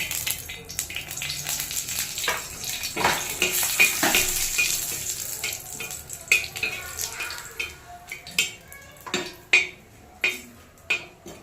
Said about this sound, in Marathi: त्यानंतर आता आपण मिरची टाकून घेऊ